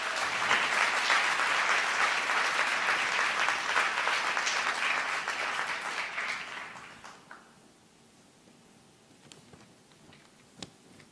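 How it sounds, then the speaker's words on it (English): An audience at a community forum on race, state violence, trauma and healing gives a panel a full round of applause, loud and dense for several seconds before it tapers to near quiet. "Can you give our panel another round of applause"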